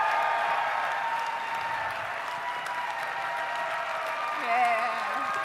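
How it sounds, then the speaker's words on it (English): Audience applause at a gala, a steady broadband wash of clapping that continues throughout with a voice speaking over it near the end. "Help me give these ladies a round of applause."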